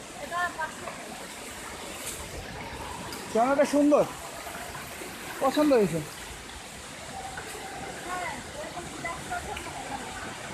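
A waterfall at Tidongkhot in Bandarban, swollen after the previous day's rain, gives a steady broadband rush of water in the background. People talk over it, with brief bursts of louder speech.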